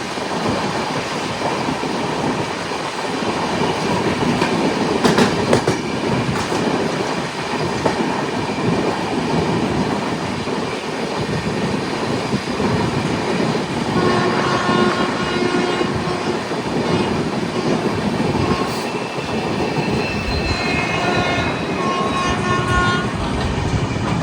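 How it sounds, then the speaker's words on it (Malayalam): A Mysore–Yeshwantpur Express passenger train hauled by a diesel locomotive passes by near Chikkabanavara, a loud, steady rumble of rolling wagons and wheel clatter heard from aboard another moving train. "ഇപ്പൊ കണ്ടത് മൈസൂർ യശ്വന്ത്പൂർ എക്സ്പ്രസ് ആണ്, ഹാസൻ വഴി വരുന്നത്. അതായത് ഡീസൽ ലോക്കും ആയിരുന്നു."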